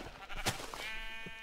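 A sheep in Minecraft lets out a brief wavering bleat, close and moderately loud, over quiet game ambience.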